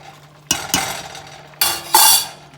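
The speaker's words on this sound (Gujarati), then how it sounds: "સરસ હલાવીને મિક્સ કરીશું" Kokum is stirred into a pot of dhokli mixture with a spoon, giving several short scraping and clinking strokes against the pot, close and clear, with brief pauses between them.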